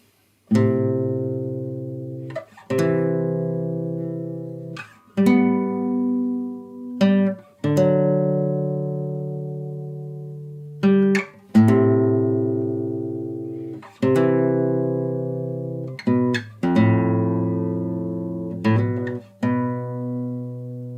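Guitar plays the next line of a piece from The Last of Us Part 2: a steady run of plucked note pairs, each ringing and fading before the next, close and clear with no talking.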